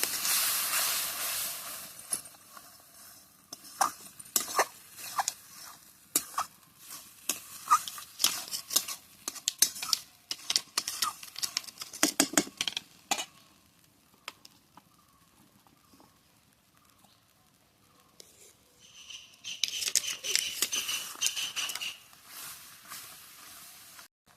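Mustard spice paste fries in a pan as coconut milk is added a little at a time for a prawn malai curry. A spatula clacks and scrapes irregularly against the pan, and surges of sizzling hiss swell at the start and again near the end, with no talk.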